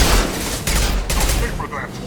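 Gunfire from the video game Mass Effect 2: a dense run of rapid shots and bursts, loud and close, continuing across the whole span with in-game voices mixed underneath.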